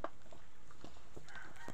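Chickens, including native Bisaya hens, clucking in short scattered calls on a farm, moderately close but soft over a steady background hiss, with no talk.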